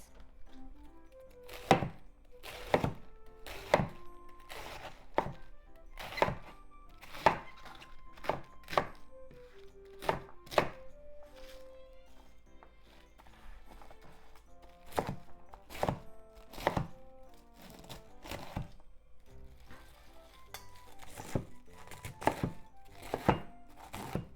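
A knife chopping cabbage into bite-sized pieces on a cutting board, a series of close, crisp thunks in irregular bursts with short pauses between, no talking.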